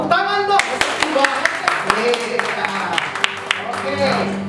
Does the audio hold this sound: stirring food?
no